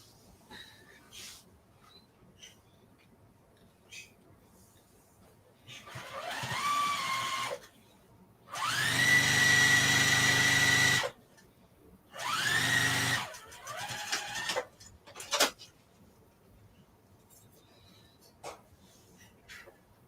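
A sewing machine stitches the side seams of a large reusable tote bag in several separate bursts, the longest a steady whirring run of a few seconds, close by between quiet pauses.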